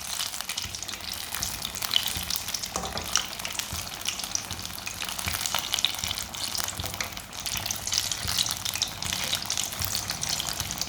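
Egg kabab mixture fries in hot oil with a steady, close sizzle and crackle, soft stirring scrapes now and then, and no voices.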